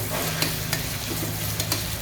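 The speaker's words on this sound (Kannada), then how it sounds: "ನೋಡಿ ಪಳ ಪಳ ಅಂತ ಹೊಡಿತಿದೆ." Onions frying in a pan for chicken biryani give a loud, dense sizzle with sharp crackles and pops scattered through it, close up, and nobody speaks.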